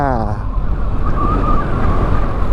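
Strong wind roars across a high mountain area in Kalinga near a pass monument, a loud, steady buffeting rush with a brief voice at the start.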